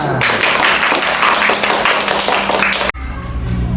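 Schoolchildren in a classroom clap together in a dense, lively burst lasting nearly three seconds, then stop abruptly, leaving a quieter room hum with faint noise.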